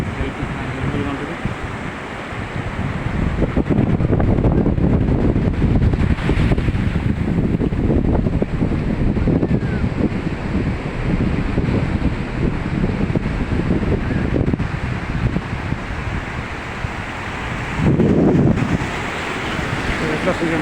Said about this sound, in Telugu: పెద్ద అలలు చాలా పెద్ద అలలు వస్తుంది